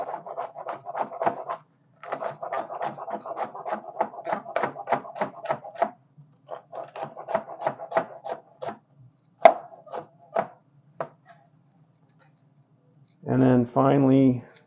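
Knife chopping Anaheim pepper on a cutting board during home cooking, a run of quick, close, rhythmic chops in several bursts with short pauses, crisp and moderately loud, a voice briefly heard near the end.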